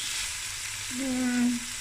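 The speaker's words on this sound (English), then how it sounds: "I'm going to stir it." A lamb and sago stew over medium heat sizzles steadily in the pot while being stirred, a close continuous frying hiss with a brief tonal scrape partway through.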